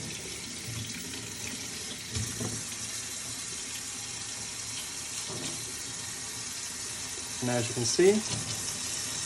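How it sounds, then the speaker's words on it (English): Hot tap water runs steadily into a sink to wash adhesive glue off a craft item, a constant hiss and splash under a speaking voice, with a brief louder burst of splashing near the end. "But under some hot water with the soap helps it to release just a little bit better."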